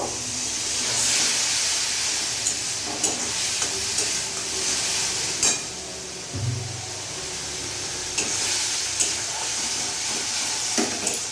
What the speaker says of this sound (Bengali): মশলাটা পুড়ে যাতে না যায় তার জন্য এখানে একটু সামান্য জল অ্যাড করব